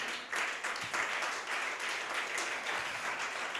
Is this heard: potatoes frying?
no